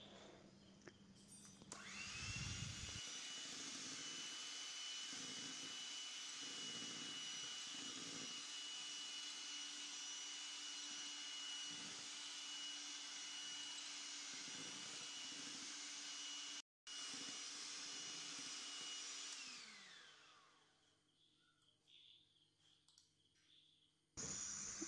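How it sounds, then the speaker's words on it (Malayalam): An electric hand mixer beats sugar into chocolate cake batter, a steady high whirring drone held close for about twenty seconds, cut off briefly once before it winds down and stops. "നന്നായിട്ടൊന്ന് ബീറ്റ് ചെയ്തെടുക്കുകയാണ്."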